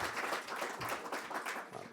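An audience at an employee ownership forum gives a round of applause, with dense, fairly loud clapping from many hands continuing steadily throughout.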